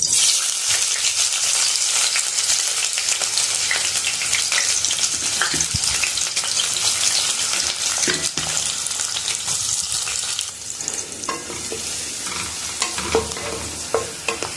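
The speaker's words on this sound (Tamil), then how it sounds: "இப்போ இதுக்கு வெங்காயம் நல்லா வதங்கணும்னு தேவையில்லை" Steady, dense sizzling of chopped onions sautéing in oil in a pan for channa masala, with occasional stirring clinks and scrapes, loud and continuous throughout with no talking.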